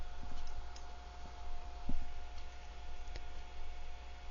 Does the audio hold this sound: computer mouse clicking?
yes